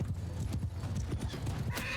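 In a Mount & Blade II: Bannerlord battle, a horse gallops with rapid, steady hoofbeats that run through the whole stretch, ending in a brief whinny-like burst.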